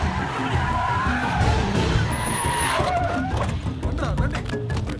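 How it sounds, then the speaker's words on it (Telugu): Auto rickshaw pulling away with its tires skidding, a loud close grinding rush of tire and engine noise sustained across the clip, with voices shouting briefly over it. "ఆటో వెళ్ళిపోతుంది."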